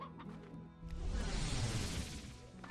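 Chickens cluck and squawk in a loud, dense, continuous flock din in the video game Slime Rancher, building after the first second and holding steady throughout.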